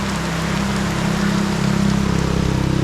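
Heavy rain pours steadily in the mountains near a waterfall in Ubud, Bali, a loud, dense, unbroken hiss of falling water up close with no voices.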